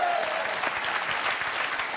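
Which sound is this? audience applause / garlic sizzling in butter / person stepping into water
audience applause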